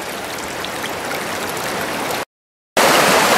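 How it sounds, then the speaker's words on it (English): Floodwater on a homestead meadow washout rages over a culvert that can no longer take the flow. A loud, steady rush of water runs throughout, broken only by a brief half-second dropout. "This has become quite a raging river here. The culvert is no longer accepting the water here. It's just flowing right over it."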